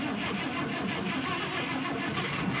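A sick car with a freshly repaired melted wire cranks and runs, its engine a steady, dense mid-pitched drone without a break, close and loud, with no voices.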